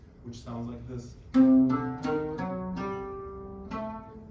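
Melody in the Arabic maqam Nakriz, played as a short sequence of plucked or bowed notes that rise and fall one at a time, close and fairly soft, with the final tones ringing out.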